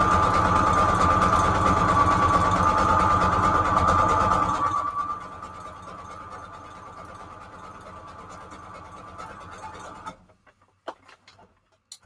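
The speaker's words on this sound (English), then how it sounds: "So I'm just going to sew down the middle of the strip here" A sewing machine stitches down the middle of a paper junk journal strip in a steady, close whir that drops to a softer hum halfway through, then stops, leaving a few light handling clicks.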